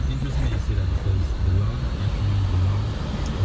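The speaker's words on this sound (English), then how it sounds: "Ride with me in this Jeep through the streets of St. Martin." A Jeep rolling through town streets on the Dutch side of St. Martin, steady engine and road rumble throughout, with someone talking over it.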